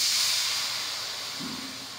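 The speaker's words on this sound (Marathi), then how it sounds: "मसाला उकळण्यासाठी थोडं आपण याच्यात पाणी टाकून घेणार आहोत" Water poured into hot masala with crushed peanuts for chole sends up a loud, steady steam hiss that slowly fades over two seconds.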